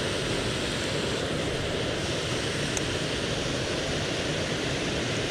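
A waterfall on a trout creek, a dense, unbroken roar of falling water, loud and close, with no other sounds.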